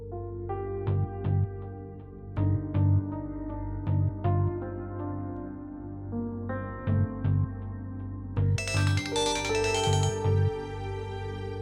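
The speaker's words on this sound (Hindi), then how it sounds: "जी बेल तो मुस्तकिल जा रही है, फोन तो उठाना चाहिए ना।" An unanswered phone keeps ringing with a repeating electronic ringtone melody, regular bursts of clear tones cycling steadily and closely for several seconds, getting brighter toward the end, with no voices.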